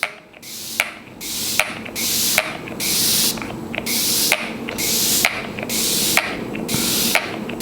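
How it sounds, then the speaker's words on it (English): Setting spray misted over a face during makeup, a series of about nine sharp aerosol bursts in steady rhythm, each a short bright hiss close to the microphone. "I'm gonna go ahead and spray my face down and get all of this melted together."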